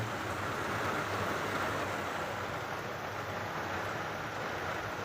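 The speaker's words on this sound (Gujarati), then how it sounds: "ધોધમાર વરસાદ ચાલુ છે અત્યારે" Steady, dense roar of heavy rain pouring nonstop in Rajkot, close and loud, with no voices.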